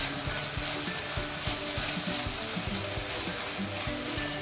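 Tomatoes and mixed vegetables fry steadily in a pan for masala upma, a continuous close sizzle with occasional soft stirring scrapes and no talk.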